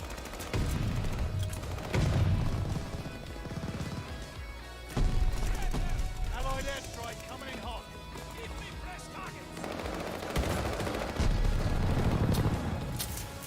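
During a strafing run in Call of Duty Vanguard, bursts of gunfire and booming impacts crash repeatedly amid game sound effects, while a voice talks over the action.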